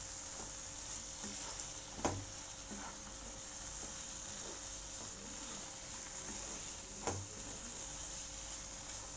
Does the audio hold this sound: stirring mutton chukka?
yes